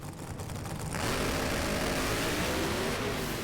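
An NHRA Pro Mod drag racing engine at Gainesville surges and swells into a loud, sustained high-revving blast that stays intense for several seconds, with no voices.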